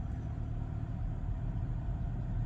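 A 2023 Kia Forte GT idles in traffic with a low, steady engine rumble heard from inside the cabin, even and unbroken.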